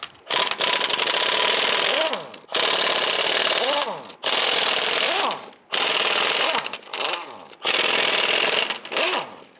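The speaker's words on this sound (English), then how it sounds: "Using your 19mm socket, go ahead and loosen and remove the nuts." A 19mm socket ratchet loosening wheel lug nuts on a 1995-2001 Ford Explorer, in five loud bursts of rapid clicking and whirring separated by short pauses.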